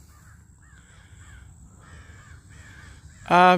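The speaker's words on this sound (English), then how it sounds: "I'm hearing some crows around there." Several crows caw at a distance in a loose series of harsh calls, ending with a sudden, much louder close caw.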